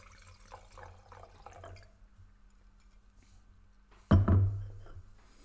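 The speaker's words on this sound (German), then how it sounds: "dass wir den uns jetzt mal einschenken und mal zusammen probieren" Riesling Flora 2019 white wine is poured into a glass, first as a soft trickle, then as a sudden louder gush near the end that fades quickly, with no voices present.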